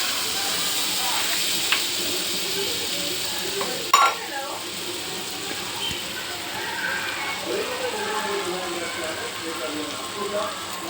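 Butter sizzling in a pan at the start of pav bhaji cooking, a steady frying hiss with a sharp clank partway through, as people chat faintly in the background.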